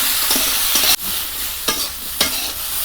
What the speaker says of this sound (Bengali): কলা, পেঁপে, আলু সুন্দর করে ভাজা করে নিয়েছি